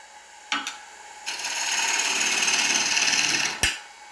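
A woodturning gouge cuts dry, punky wood spinning on a lathe, with a couple of short knocks and then a sustained close rasping scrape lasting about two seconds that ends in a sharp tap.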